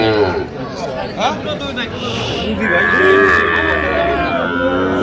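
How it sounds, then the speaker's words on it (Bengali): Young bull calves and other cattle moo and low at a busy livestock market in Chuadanga, their calls rising over constant crowd chatter and nearby talking voices. "ষাঁড় বাচ্চা দেখছিলাম এখানে"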